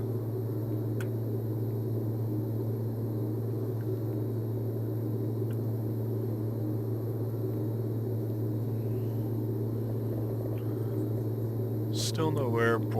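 A Grand Caravan aircraft engine droning in a flight simulator game over Alaska, a steady loud hum with a strong low tone holding unchanged throughout, with a brief click near the end.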